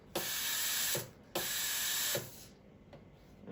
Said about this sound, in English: it's going to pulse the air, pulse the steam 5 times to get rid of any milk that's in the holes